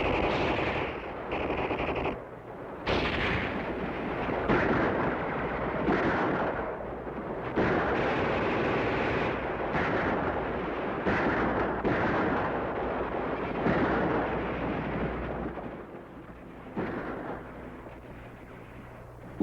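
World War II battle gunfire with riflemen firing on enemy troops: dense, loud volleys of shots and heavy bursts crowd one another almost without pause, with brief dips between the barrages and no voices.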